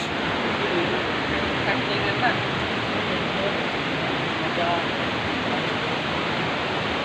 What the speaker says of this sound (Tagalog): Yun ang Wawadam. Man-made falls.